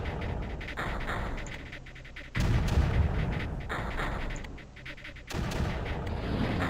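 Blaster weapons fire in the strategy game Creeper World, heard as loud repeated booming salvos that surge in several waves over a continuous noisy background, with no talking.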